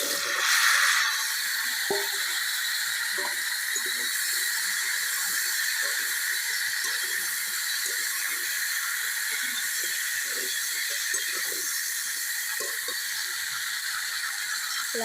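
Cut turnip and potato pieces hit hot oil already crackling with cumin and bay leaf, giving a steady loud hiss that runs throughout with scattered sputtering pops, with no voices.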